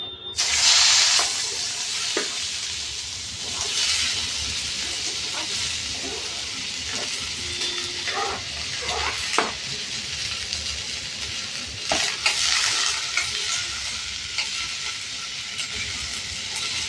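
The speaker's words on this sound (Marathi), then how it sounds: "आता आपण कढईमध्ये तेल टाकलंय, त्याच्यामध्ये आता आपण हे कट केलेले अनियन्स आणि टोमॅटो टाकायचं आहे" Onions and tomatoes fry in hot oil in a kadhai for a restaurant-style paneer do pyaza, giving a loud, continuous close-up sizzle with occasional stirring scrapes and clicks throughout.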